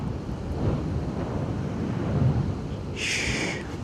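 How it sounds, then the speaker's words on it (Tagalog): Strong wind buffets the microphone at a white sand beach, with low rumbling gusts and surf beneath, and a brief higher hiss near the end. "Lakas ng hangin."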